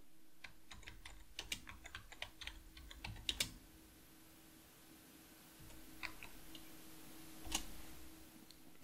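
Faint typing on a computer keyboard as a sudo command is entered in a CentOS terminal: scattered soft clicks in short irregular bursts with pauses between them, over a quiet background hum, and no speech.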